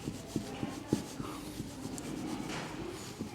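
Chalk or marker writing on a board during a lecture, heard as soft scratchy strokes with small taps, close and quiet over room noise.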